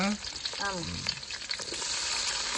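Onions sizzle and fry in a pan for chicken curry, a steady close crackling hiss that runs throughout while a voice speaks briefly over it at the start.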